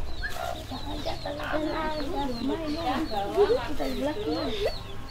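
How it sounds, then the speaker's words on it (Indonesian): Small and large chickens cluck continuously around a rooster, a busy close flock chatter with steady background noise. "ada ayam kecil, ada ayam besar, ada juga ayam jantannya di belakang barangkali"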